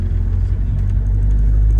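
A 2002 Toyota Hilux 4x4 diesel cruises along the road, heard from inside as a loud, steady low engine and road rumble with no talk over it.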